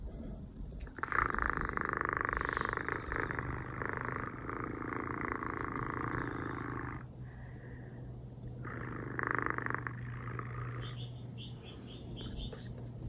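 A house cat purring close by, a steady low rumble that swells and fades in long stretches with brief pauses, alone without talk.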